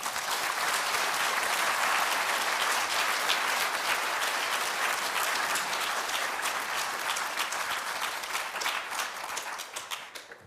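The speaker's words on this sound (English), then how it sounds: "let's please applaud the judges for their hard work and their fun, and all the three worthy finalists." A full audience at a digital preservation awards ceremony gives sustained, loud applause for the judges and finalists, a dense steady roar of clapping that thins into separate claps near the end, with no talk.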